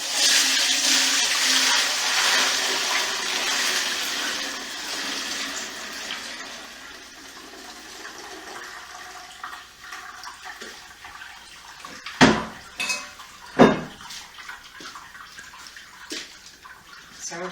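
Lavender flower wine draining out of an oak barrel during primary fermentation, a steady splashing pour of liquid that gradually quietens, broken later by a few sharp knocks and clunks.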